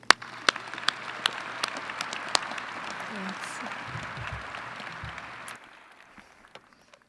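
Large commencement-ceremony crowd at UW–Madison applauds to welcome the chancellor onstage, a steady roar of many clapping hands with a few sharp close claps, lasting several seconds before cutting off and leaving a quiet room with scattered claps.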